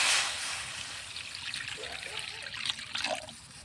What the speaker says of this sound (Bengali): ডাল সিদ্ধ করার জন্য পানি দিয়ে দিলাম।